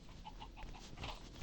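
A chicken in a survival video game gives a few quick, soft clucks, fairly faint over a steady background hum, with no talk.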